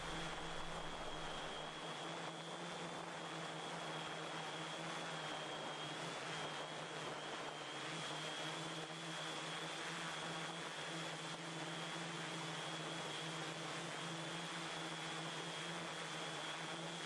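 A drone carrying a 360 camera flies upriver into the wind over Iceland. Its propeller whine is steady and continuous under broadband wind rush, with no talk.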